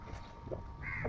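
A crow gives one short, rough caw near the end, over a steady outdoor background with a faint constant hum, in Shoaibah.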